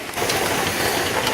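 Steam jets steadily from a Presto pressure canner as a continuous close hiss, a short unbroken rush of vapour with no voices.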